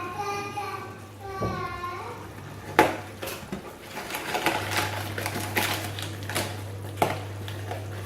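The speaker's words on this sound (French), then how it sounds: "Donc je remue pour pas que ça fasse de grumeaux." A spoon stirs cornstarch into cold water in a small ramekin, making quick repeated clinks and taps against the dish, close and fairly soft, with a low hum and brief voices in the background.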